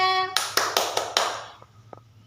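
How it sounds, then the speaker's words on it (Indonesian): Hand claps during an online children's Catholic faith class: five crisp, evenly spaced claps close by, followed by two fainter, scattered claps as the rhythm fades. "Tepuk tangan semuanya."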